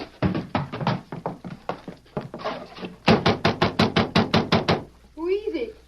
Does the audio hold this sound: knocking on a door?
yes